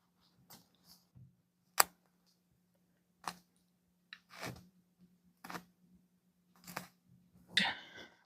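Scissors snipping through basting stitches on cotton gauze fabric, a series of sharp, close individual cuts spaced irregularly over quiet background with a faint steady hum.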